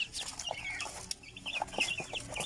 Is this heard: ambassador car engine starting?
no